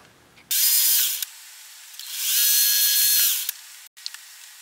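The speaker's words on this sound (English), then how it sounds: "Now we'll drill it 19. A number 19 drill for M5 tap." A drill press bores with a number 19 drill bit, making two close, high-pitched whirring bursts of about a second each, then a few faint ticks. No one talks.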